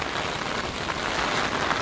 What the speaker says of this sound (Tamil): செம மழை பெஞ்சிட்டு இருக்கு.